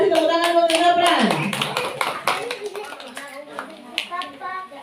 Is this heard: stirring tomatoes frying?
no